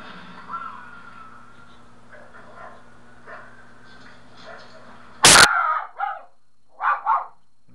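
A household dog barks excitedly in a woodcarving workshop: one sharp, loud bark stands out, then a quick pair of shorter barks follows, over quiet background noise.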